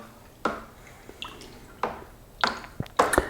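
Wine being stirred in a bucket after the full contents are added, giving a few soft sloshing swishes and liquid squishes with small drips and clinks, fairly quiet and close, with no talking.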